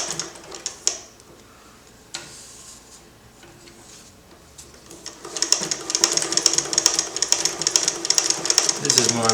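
An industrial sewing machine on a domestic treadle base runs in uneven bursts at first, then picks up into a faster, continuous rattling stitch, heard close with a voice speaking over it.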